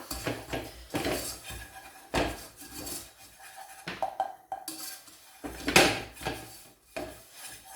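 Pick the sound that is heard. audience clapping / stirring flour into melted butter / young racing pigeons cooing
stirring flour into melted butter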